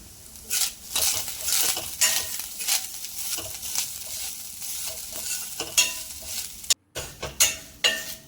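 Grated fresh coconut and turmeric frying in a pan for fish curry, with a steady sizzle under repeated scraping stirs and utensil clinks, loud and close with no talking.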